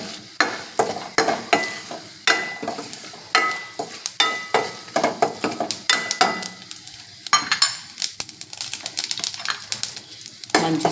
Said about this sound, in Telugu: మంచి స్మెల్ వచ్చిన వరకు ఫ్రై చేసుకోవాలండి.